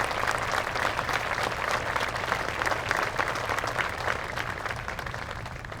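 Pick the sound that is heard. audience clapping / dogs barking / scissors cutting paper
audience clapping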